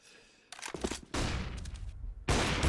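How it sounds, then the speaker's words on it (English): Gunfire in a Counter-Strike match on Dust2, with AWP sniper rifle shots among it: a loud broadband blast, a rapid burst of shots, then further heavy firing, with no talk over it. "They both fire one AWP shot, and then they're just trying to hit this one head"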